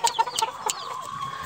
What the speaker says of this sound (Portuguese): Olha o tamanho desse franguinho aí.